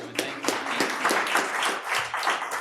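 Applause from the audience at an Eden Prairie city council meeting, a steady spread of many hands clapping at moderate level with no break.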